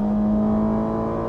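Ferrari sports car engine, with a 7,500 RPM redline and an 8-speed dual-clutch transmission, hums loudly and steadily, close and alone. The tone is smooth and sustained, and no distinct shift break can be picked out.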